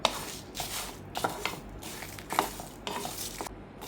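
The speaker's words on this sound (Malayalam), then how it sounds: "ഒരു അഞ്ച് മിനിറ്റ് ഞാൻ ഇതുപോലെ ഇളക്കിയിട്ടുണ്ട്" Spatula stirring masala as it roasts in a pan, repeated scraping strokes roughly every half second with a faint sizzle beneath, close and with no voices.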